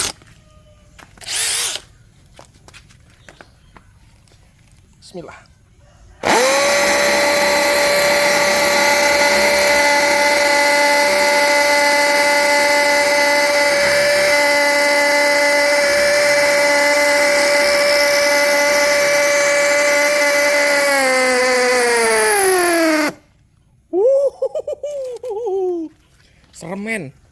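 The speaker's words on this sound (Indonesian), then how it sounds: "Selanjutnya kita akan mengebor konblok menggunakan mata bor masonry 10 mm." A DeWalt DCD805 cordless brushless impact drill in hammer mode bores into a concrete block with a 10 mm masonry bit, a loud steady hammering whine lasting about seventeen seconds before winding down, with brief speech before and after.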